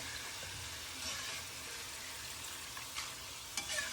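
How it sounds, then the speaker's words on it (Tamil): Chana dal roasts in hot oil with a quiet, continuous crackling sizzle and a few soft stirring clicks near the end, heard alone at low volume. "இந்த எண்ணெய் சலசலப்பு அடங்குற வரைக்கும் நம்ம வேக விட்டுட்டு எடுக்கலாம்"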